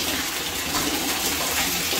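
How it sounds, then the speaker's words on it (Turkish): Tap water fed through a washing-machine hose rushes steadily into a radiator during cleaning. A constant, loud gushing flow holds unbroken throughout. "Bakın su gelmeye başladı. Evet, bu şekilde su geliyor."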